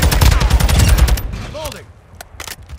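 Fast automatic gunfire in Call of Duty Modern Warfare 2 multiplayer, a loud close burst of rapid shots that fades out, with brief voice callouts.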